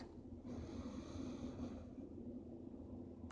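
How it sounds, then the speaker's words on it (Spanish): A long, deep inhalation through the nose during a morning yoga session, a soft steady airy rush close to the ear that lasts most of the moment and then fades slightly. "Inhala por la nariz"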